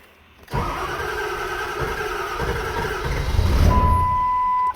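A 7.3 diesel tow truck engine cranks over and catches, settling into a loud, steady idle close by, with a thin electronic tone coming in near the end.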